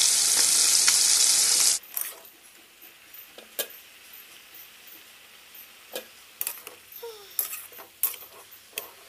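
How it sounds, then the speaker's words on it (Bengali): Hilsa fish lightly frying in a pan: a loud, dense hissing sizzle for under two seconds, then quiet scattered clicks and taps of a utensil. "ইলিশ মাছটা খুব বেশি ভাজবো না, একটু হালকা করে ভাজবো"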